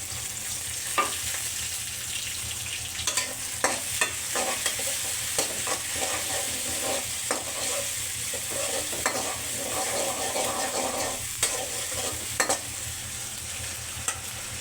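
Garlic and chili paste sautéing in a pan for a vegetable and dried fish dish, a quiet continuous sizzle broken by repeated sharp clicks and scrapes of a spoon stirring against the pan.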